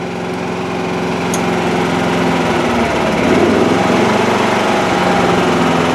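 A Duromax generator runs on LP gas after a fuel switch, giving a loud, steady engine drone close by, with a slight shift in tone partway through and no talking.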